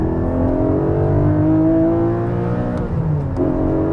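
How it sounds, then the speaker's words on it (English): Engine of a Porsche 718 Cayman GTS 4.0 sports car, a loud, close, sustained drone whose pitch climbs and eases as the engine revs, with no talking over it. "This is the Porsche 718 or Cayman GTS"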